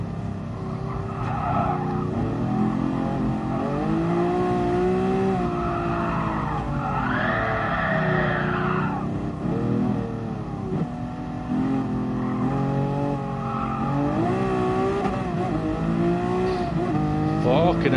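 A race car lapping Bathurst in the Gran Turismo Sport video game, its engine climbing and falling through gears with bursts of squealing, skidding tires, loud and continuous, with a voice talking over it.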